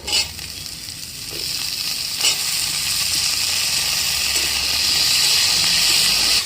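Plantain pieces dropped into hot oil set off a loud, continuous hissing sizzle that swells slightly after a small clatter near the start and stays dense throughout, with no voices.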